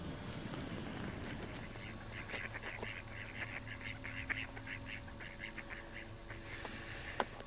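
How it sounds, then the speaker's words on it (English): Ducks quacking repeatedly in a rapid, chattering series at moderate distance by Grafham Water reservoir, over a steady outdoor background hum. "Nice little family of ducks there, having a bit of a game"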